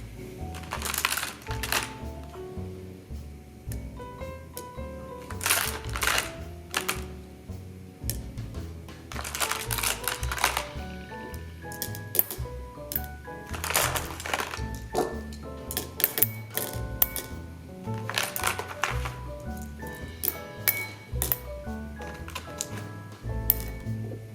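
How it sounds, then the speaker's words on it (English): Glass marbles are poured and spread into a succulent terrarium as a drainage layer. Close, irregular clattering and clicking comes in scattered bursts throughout, with no voices. "the next step is rocks, or in our case, we're gonna use marbles"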